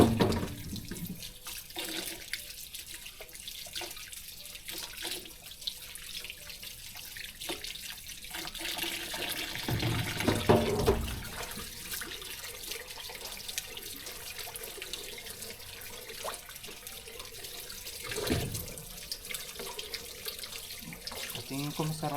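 Cassava being washed under a running kitchen tap, steady water pouring and splashing in a sink with some louder surges, with a voice speaking faintly at times.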